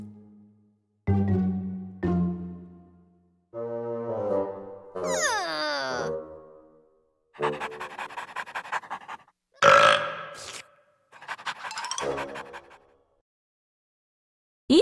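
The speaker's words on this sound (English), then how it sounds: "Burp." A series of loud, drawn-out burps from a children's learning show, about eight separate croaking bursts of varying length and pitch, close and dry, separated by brief silences.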